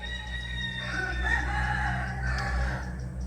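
Chickens cluck nearby while a rooster crows loudly over them, against a low background rumble.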